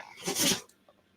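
A single sharp sneeze, close and fairly loud, over quickly, followed by quiet.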